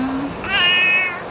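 A pet cat gives a single drawn-out meow, close and clear, with a short sliding tone leading into it and no talking.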